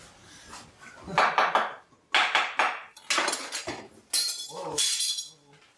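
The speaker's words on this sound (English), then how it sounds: "And we're going to start chopping." A vegetable knife chops vegetables rapidly on a board in bursts of quick, crisp strikes, with short pauses between runs and no talking.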